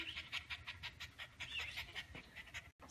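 Cookie, a happy dog just back from a fun walk, pants in quick rhythmic breaths close up, soft and steady with a brief pause near the end.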